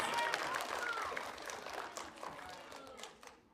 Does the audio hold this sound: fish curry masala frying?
no